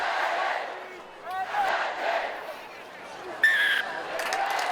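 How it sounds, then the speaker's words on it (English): A rugby crowd at Ross Oval in 2017 roars and swells in waves, a distant mass of voices rising and falling, with a sharp whistle blast cutting through near the end. "And you hear the crowd"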